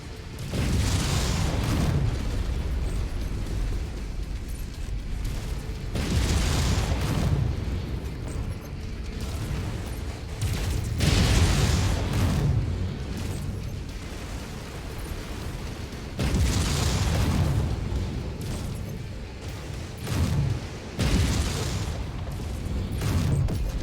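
Heavy explosions rip through a battle mech in the video game Mechwarrior 5, a series of booming blasts and rumbling bursts that recur in waves over the whole stretch.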